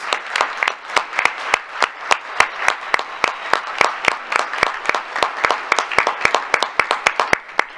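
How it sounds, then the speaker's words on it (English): Audience applause for a high school chorus at a school board meeting: crisp, distinct claps in a fairly regular rhythm, loud and close, from a modest group, continuing without talk. "Please give these students another round of applause"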